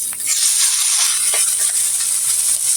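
Fenugreek greens tossed into hot oil with fried onion and chilli on a stove produce a loud, steady hiss of sizzling that holds evenly throughout, with a few faint rattles.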